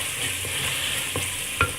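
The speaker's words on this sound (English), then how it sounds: "I've just add in the crabs, so give it a good mix" Crabs hiss in a hot, salted pan for crab rasam while being stirred, a loud steady sizzle with a few scraping stir strokes and a sharper clatter at the end, no voices.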